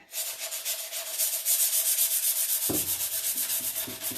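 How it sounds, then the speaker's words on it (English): Rubbing and sanding through black paint over white on a wooden seed crate gives a close, steady scratchy rasp that goes on without a break. Partway through a lower, rhythmic scuffing begins with the strokes. "I'm going to rub it through to show some of that white under my paint."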